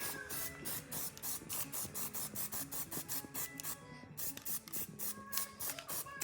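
An aerosol can of Plasti Dip sprays a second coat onto a gray 2020 Yamaha R1 front fender in short, rhythmic hissing bursts with brief pauses between them, close and fairly loud.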